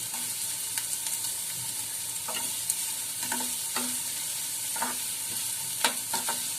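Onion sautés in a kadai, a steady frying sizzle broken by repeated scraping stirs of a spoon against the pan at an irregular pace, close and clear with no talking.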